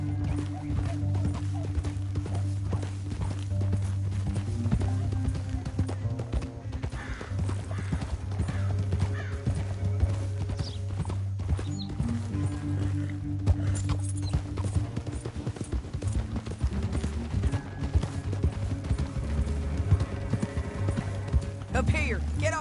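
Steady clip-clopping hooves of galloping horses in the video game Red Dead Redemption 2, beneath a swelling orchestral score, with occasional voices breaking in.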